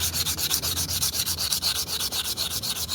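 A part from a Honda Dio BS6 scooter under full service is rubbed or sanded by hand in quick, even back-and-forth strokes, close and steady for three seconds with no talking.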